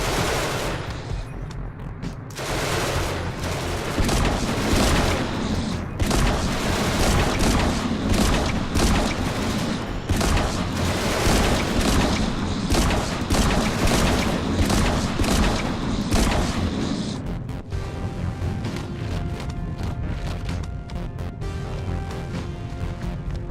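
A hand cannon in the video game Genesis Alpha One fires in rapid, dense bursts of heavy booming shots for about fifteen seconds, loud and continuous, before the shooting stops and quieter game ambience remains.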